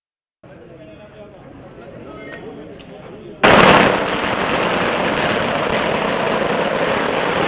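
Firecrackers burst by AIADMK supporters celebrating at Poes Garden, Chennai: a quiet crowd murmur gives way to an abrupt, loud, continuous crackling barrage that carries on to the end.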